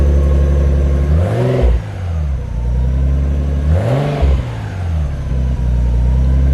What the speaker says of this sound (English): This car sounds so much better with that exhaust.